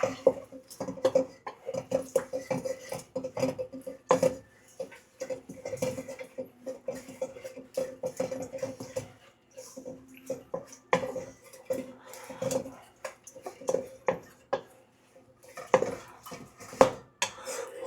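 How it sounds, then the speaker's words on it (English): Food being stirred in a bowl, with irregular clinks and scrapes of a utensil against the dish, fairly quiet and close, in uneven bursts with brief pauses. "Give that a nice little stir in there."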